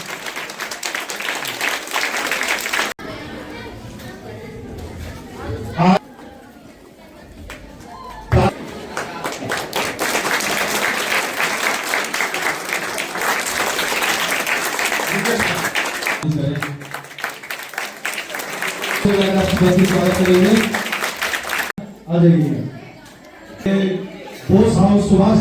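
Audience clapping at a ceremony honoring a statue of Sarojini Naidu, sustained applause broken by brief pauses, with people talking over it near the end.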